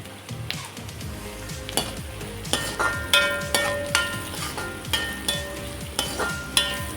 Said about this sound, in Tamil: இந்த சமயத்தில் பச்சை மிளகாய் ஒரு 4 கீறி வச்சுருக்கேன், அதை போட்டுக்கலாம்.